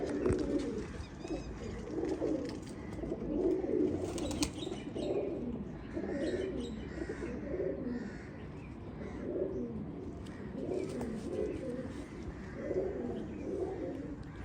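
Pigeons coo in soft, repeated rolling phrases, several birds overlapping at a moderate distance, with a faint rustle and a brief flutter in between.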